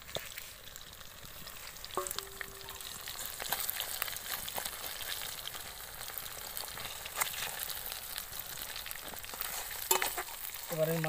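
Whole bata fish, coated in spice paste, sizzle steadily in hot oil in a wok, a continuous crackling hiss with occasional stirring scrapes and clinks near the end.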